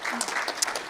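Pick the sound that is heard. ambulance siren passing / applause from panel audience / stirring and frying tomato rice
applause from panel audience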